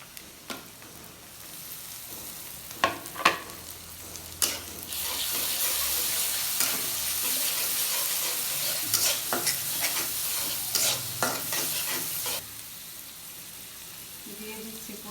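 Ginger and garlic paste frying in a pan for a chicken and green papaya curry, a steady loud sizzle with sharp clinks and scrapes of a spoon stirring, close up and alone without talk.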